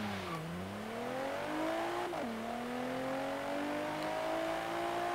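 A car in Forza Horizon 3 accelerates at full throttle with a PDK gearbox, the engine note climbing steadily through gears with a brief dip at a shift, loud and continuous with no talking.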